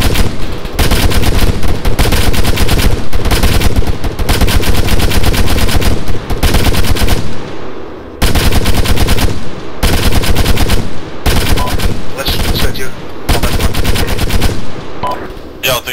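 Dense bursts of automatic gunfire in an ArmA military shooter on the Chernarus map, loud and close, firing in long repeated volleys with only short pauses between them.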